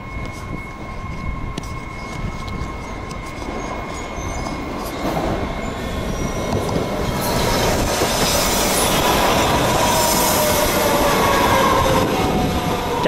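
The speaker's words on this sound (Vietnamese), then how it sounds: "Trạm xe lửa đón người" Train at a railway station picking up passengers, a loud rumbling rail roll with wheel squeal and a high tonal whine, building steadily louder over several seconds as it approaches nearby.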